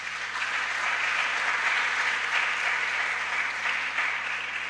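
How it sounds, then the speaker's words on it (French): An audience in a chapel applauds steadily, a dense, even wash of clapping that holds at moderate loudness for several seconds without speech. "Je voudrais qu'on applaudisse très fort."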